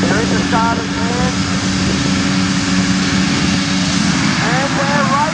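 Enduro motorcycles, including a KTM 500 EFC, roar together at a race start, a dense continuous engine drone with rising revs, loud and close, with a commentator talking over it.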